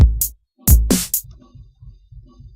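Programmed drum pattern in FL Studio: two sharp kick-and-snare hits followed by a steady run of quiet, evenly spaced hi-hat ticks, played alone with no talking.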